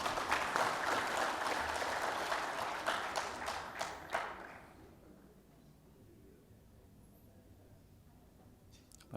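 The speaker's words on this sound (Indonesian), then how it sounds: "Tepuk tangan untuk ketua Korwil." Applause for regional coordinators at a regional assembly meeting, a dense burst of clapping from a hall audience that fades out after about five seconds, leaving quiet room tone.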